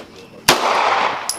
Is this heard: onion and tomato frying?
no